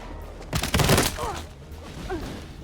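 Rapid burst of gunfire from the UMP40 submachine gun in a first-person shooter, a dense cluster of shots around the middle of the clip, fairly loud, with quieter game sounds before and after.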